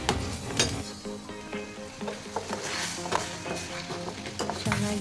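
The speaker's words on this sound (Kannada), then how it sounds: "ಹಾಕ್ಬಿಟ್ಟು ಚೆನ್ನಾಗಿ ಫ್ರೈ ಮಾಡ್ಕೋಬೇಕು." Homemade tomato sauce and soy sauce fry together in a pan for pasta, a close, steady sizzle with repeated scraping and clinking stirs at an uneven rhythm.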